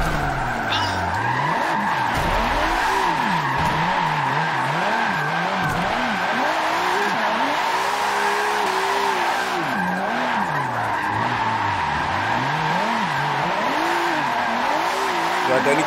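Tires squeal in long wavering skids as a car drifts through tight corners in the Forza racing game, the engine droning loudly underneath, with a voice exclaiming briefly over the continuous screech.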